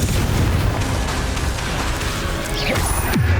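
A Confringo blasting spell in Hogwarts Legacy goes off as a loud, sustained booming explosion with crashing debris, followed by sweeping whooshes of spell effects near the end.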